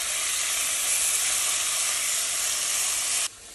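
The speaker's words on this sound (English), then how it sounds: "I'm now going to go ahead and start to cook off my chicken." Chicken pieces sizzle loudly in a hot pan for a few seconds, a dense, steady frying hiss that drops off abruptly at the end.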